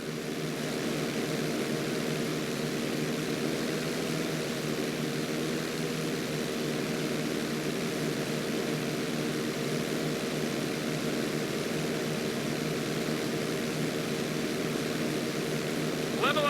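A propeller airplane in the GTA V flight school video game flies on with a steady, droning engine tone that holds at an even level throughout.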